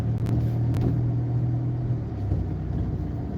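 A car engine hums low and steady while the car drives and turns, quiet and even, with a couple of faint clicks early on.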